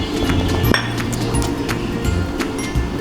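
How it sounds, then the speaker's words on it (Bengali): An egg cracks against a bowl holding salt and sour yogurt for naan dough, giving a sharp clink near the middle over a busy, clattering kitchen background. "আমি এখন এখানে একটা ডিম দিয়ে দেব"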